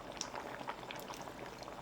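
Soaked rice cakes go into a simmering seaweed soup, giving faint, close bubbling and small liquid plops over a low continuous simmer, with no voices.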